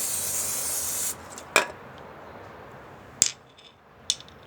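Spray paint can coating cabinet handles: a sustained hissing spray burst at the start, then quiet with a few sharp clicks and taps of the can or handles, no voices.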